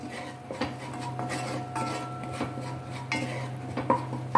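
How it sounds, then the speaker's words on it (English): Spice ingredients being mixed in a bowl for a paneer curry, with repeated light clinks and scrapes of a spoon against the bowl at an uneven pace, close and fairly quiet, no speech. "Now we'll mix all this ingredients."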